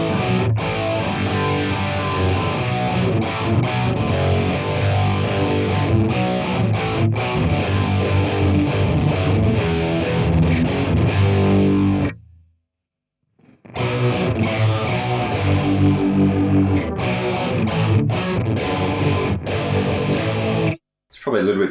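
Electric guitar run through a detune harmoniser effect with distortion, giving a thick 80s hard-rock tone; loud, sustained riffing fills the passage, broken by a brief silent gap near the middle and another short pause near the end.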